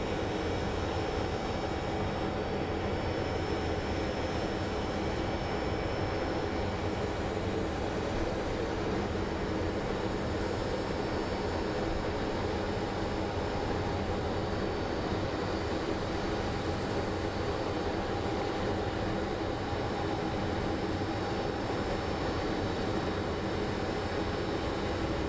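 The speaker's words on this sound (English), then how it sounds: "And here comes our United 1944 with services out of Chicago." A ten-year-old United airliner, built in 2012 and arriving from Chicago, passes at Phoenix Sky Harbor airport: a steady, broad jet engine roar that holds level throughout, with no talk.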